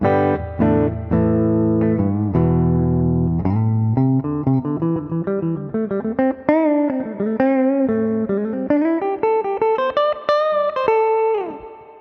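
A Firefly budget Les Paul-style electric guitar on its middle pickup plays a run of sustained, ringing notes and chords with a brighter tone, steady and loud throughout with no talking.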